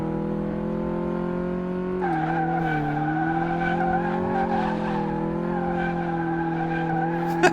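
Tires squealing in a steady, tonal skid as a car spins out in the game Car Mechanic Simulator 2018, loud and continuous with the pitch dipping and shifting midway, no talk over it.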